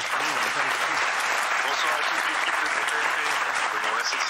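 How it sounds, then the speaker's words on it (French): Dense, steady applause from a TV studio audience during a live talk show, loud and continuous, with voices speaking and cheering faintly underneath. "J'aimerais qu'on applaudisse Gérard Brice-Viré"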